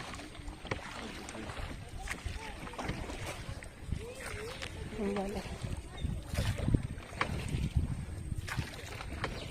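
Oars of a rowboat splash and dip in water at an irregular pace while people chat nearby, with light wind noise in the background, in the mangrove forest at Pichavaram, Tamil Nadu.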